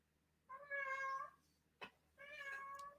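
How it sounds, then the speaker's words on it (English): A cat meows to be let in, two drawn-out, fairly close calls separated by a sharp knock or thump, with a quiet room behind them. "The cat wants to come in."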